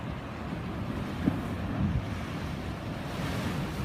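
Ocean waves wash onto the shore at Ocean Beach, San Diego, a soft steady surf roar with a slightly louder swell in the middle, mixed with light wind.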